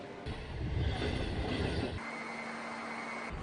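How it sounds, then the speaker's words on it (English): A Chinese-made train on the Kunming–Vientiane cross-border railway rumbles steadily at low volume, with rolling wheel noise and a faint whining tone and no voices. "This is the train we are gonna take today. It's designed and made in China."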